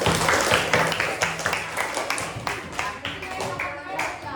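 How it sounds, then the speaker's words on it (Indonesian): A class claps together in dense, steady applause lasting several seconds during a school lesson, with voices murmuring underneath. "Tepuk tangan buat semua."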